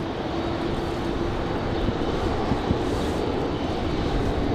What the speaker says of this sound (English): here comes our Republic Airways